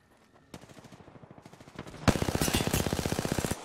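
Automatic gunfire in the battle royale game Apex Legends: a steady rapid burst of shots, then a louder, denser stream of rounds with a brief pause in between, loud and close with no talking.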